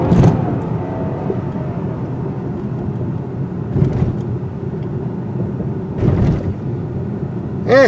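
Dull thumps from a loose tire repair kit bouncing in the trunk of a 2017 Hyundai Genesis G80 driven fast over three speed bumps, three spaced impacts rising over steady road and cabin rumble.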